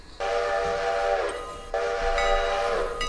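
Steam locomotive in the Railroader train simulator pulling out of a rail yard at about 15 miles an hour, with two long sustained whistle blasts over a steady rolling rumble, loud and close, no talking.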